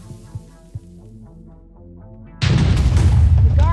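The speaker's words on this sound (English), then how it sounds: "The guards are already getting sus of the explosion noises" A TNT blast in a blocky Minecraft-style game hits at the 2.4-second mark as a loud, sustained roaring boom that follows a soft melodic game music passage and fills the rest of the clip.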